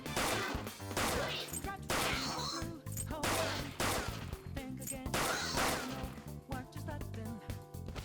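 In the video game Persona 5 Royal, rapid gunfire comes as repeated loud bursts of shots mixed with game music and effects, while a voice talks over the action.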